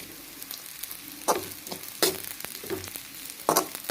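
Ragi vermicelli being stirred in a frying pan after a sprinkle of coriander leaves, with a soft sizzle under a few sharp scraping strokes of the spoon spaced across the moment.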